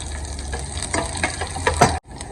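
Garlic sizzles in hot oil with mustard seeds, cumin and dried coriander, a close, steady frying hiss dotted with small crackles and pops before it cuts off abruptly.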